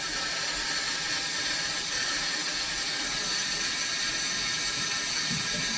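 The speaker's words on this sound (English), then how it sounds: "It's just filling up water." A steady, loud rush and hiss of water filling a three-stage water filter system through pipes continues without a break, with a faint low rumble underneath.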